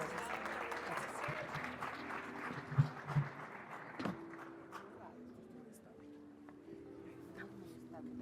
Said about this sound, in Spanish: Lo recibimos con este fuerte aplauso.